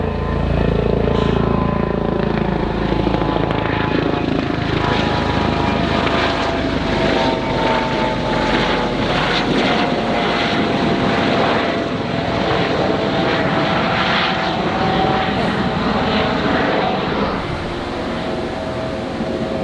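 A Coast Guard fixed-wing aircraft passes overhead, its propeller engine drone loud and steady for nearly twenty seconds, swelling early and easing slightly toward the end with no talking.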